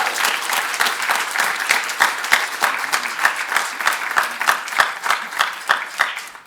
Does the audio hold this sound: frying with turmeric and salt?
no